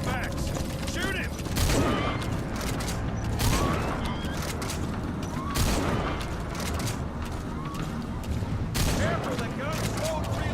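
Bursts of gunfire crack repeatedly in Metal Gear Solid V: The Phantom Pain, loud and close, mixed with mechanical clanks and shouted voices throughout.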